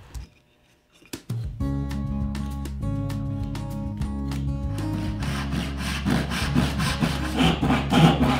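A hand saw cuts dovetail pins in a wooden board for a small box. After a brief quiet moment, steady back-and-forth rasping strokes begin and carry on close and loud, growing slightly rougher toward the end.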